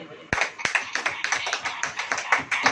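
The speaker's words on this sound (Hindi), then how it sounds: "ताली बजाइए।" A church congregation claps in a steady burst, sharp hand smacks repeating throughout, fairly close with some talk mixed underneath.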